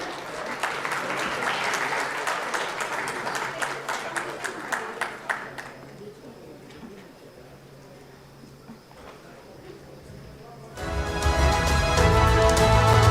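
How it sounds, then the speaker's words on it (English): Applause fills a hall at an international conference on concrete innovations, clapping that thins out partway through, followed by quieter room sound with talk and then a loud burst at the end. "Thunderous applause, everyone."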